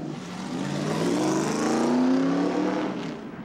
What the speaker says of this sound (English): takes the Hooters car back out onto the racetrack